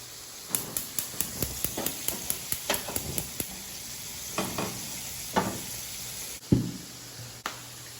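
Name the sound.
chicken frying in hot oil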